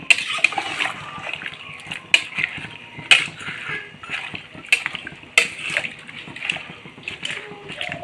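Potatoes being stirred in a pot of water, quarter-boiled for homemade potato chips, with soft watery sloshing and several sharp clinks of a spoon against the pot at roughly one-second intervals, heard close up.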